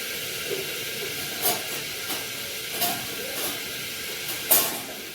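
Curry leaves sizzle in hot oil for a khichdi tempering, a steady close hiss with a few brief sharp crackles and spits over it, no voices.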